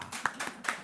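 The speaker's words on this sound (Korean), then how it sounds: "박수 한번 쳐주십시오" A few scattered hand claps in a church congregation, quick and uneven, fairly faint and brief, coming in short bursts rather than sustained applause.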